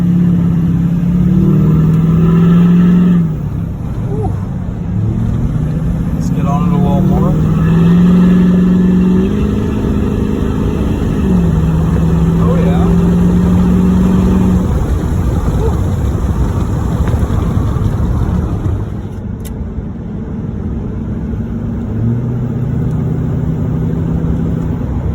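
Low-mileage LBZ Duramax diesel truck engine driving on the road, a deep droning tone rising and falling through shifts, loud and steady from inside the cab for a long stretch.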